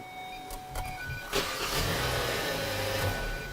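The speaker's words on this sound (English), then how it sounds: "So we'll come around here and crank the car." A car engine cranks over and catches during a battery test in a service bay, with a broadband burst at the start and then a steady low running rumble close by, no talking.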